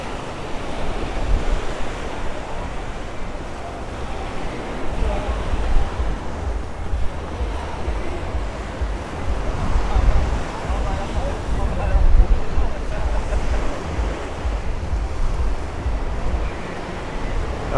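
Ocean surf washes steadily onto Miami's South Beach, a continuous broad roar of breaking waves mixed with wind buffeting the microphone, loud and close throughout with no pauses.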